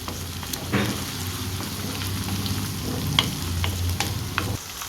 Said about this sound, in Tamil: பச்சை வாசனை போகிற அளவுக்கு நல்லா வதக்கி விட்டுக்கலாம்